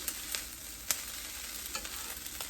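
Rice stirred in a wok while frying for teriyaki shrimp fried rice: a steady close sizzle with scraping spatula strokes and a few sharp ticks, no voices.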